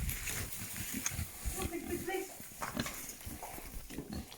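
Pigs on a farm grunting and snuffling close by among rustling and movement, while people talk over them.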